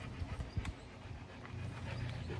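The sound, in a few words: dog panting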